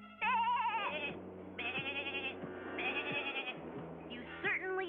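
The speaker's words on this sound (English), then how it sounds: "I hear sheep." Several loud, wavering sheep bleats ring out close by in a cartoon, one after another, over a low steady rumble of background noise.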